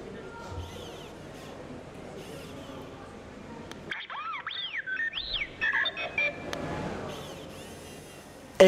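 An R2-D2 robot beeps and warbles during a demonstration at a scale-model show, chirping sweeps and whistles in quick bursts following a stretch of crowd murmur and voiceover narration.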